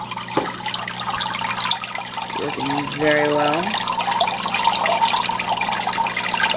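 Water pours steadily from the output tubes and spray bar of a DIY canister filter into a 75-gallon aquarium, a continuous splashing trickle with faint tonal hum, while a person speaks briefly over it.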